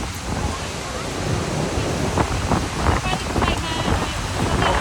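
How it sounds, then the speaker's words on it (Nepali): Strong wind blows steadily at Niagara Falls and buffets the microphone with a loud, continuous rush. Roaring water is mixed in underneath. "वेदरले अझ त्यो क्या है पुरै हावा चलिरहेको छ"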